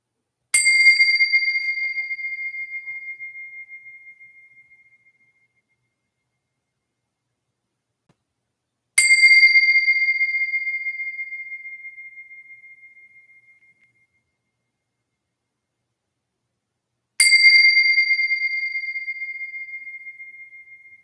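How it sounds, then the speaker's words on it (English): Three bright bell strikes spaced about eight seconds apart, each left to ring out and fade slowly to silence in a calm, quiet setting. "here's our 3 bells, and we let them ring to completion"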